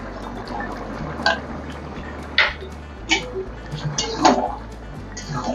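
A metal spoon clinks against a pot as flour slurry is stirred into a simmering Bengali bitter gourd curry: a few scattered taps and scrapes over a low bubbling hum, with soft talk in the background.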